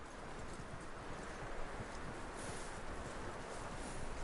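Hooves clip-clop steadily as a horse walks in the video game Red Dead Redemption 2, a faint, even rhythm of hoofbeats under a wash of background game ambience.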